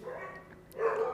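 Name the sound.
dogs barking outside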